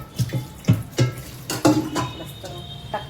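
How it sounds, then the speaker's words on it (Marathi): Excess water is tipped out of a pressure cooker in a home kitchen, coming in several short splashy gushes with brief pauses, close and fairly loud. "पाणी जास्त झालं आहे वाटते कुकरमध्ये तर पाणी कमी करते"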